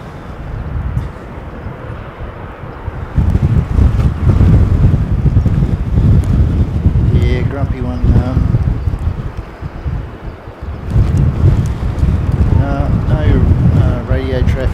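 Strong gusts buffet an outdoor microphone on a breezy aircraft-watching mound on Harewood Road, a loud, rough low roar that surges and eases, with voices talking faintly beneath it.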